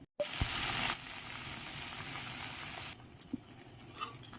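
Soft bubbling and sizzling from a pan of potato masala gravy boiling, a steady faint hiss that quiets partway through, with a few small clinks.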